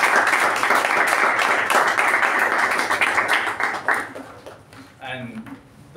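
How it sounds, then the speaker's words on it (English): Applause from a Toastmasters meeting audience, a dense steady patter of many hands clapping for about four seconds before thinning out and fading, with a few faint tonal sounds near the end. "For that effort, can we have a round of applause?"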